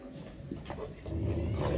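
Four-month-old Canary Mastiff puppies growling while fighting, low rumbling growls up close that swell louder toward the end.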